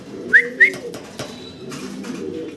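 A pair of black Maltese pigeons call at close range with two short, quick notes early on, followed by softer low murmuring.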